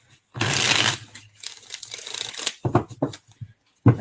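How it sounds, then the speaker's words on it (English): A deck of playing cards shuffled on a cloth surface, close up: a brisk riffling burst followed by several short, soft shuffles and taps with pauses between. "I'm trying to shuffle it on a cloth over here."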